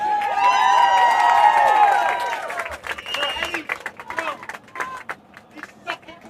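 A stadium crowd cheers and roars after a free kick goal at an NPSL soccer match between Port City and Appalachian FC, with loud sustained cheering and whistles at first, then fading into scattered claps, shouts and babble.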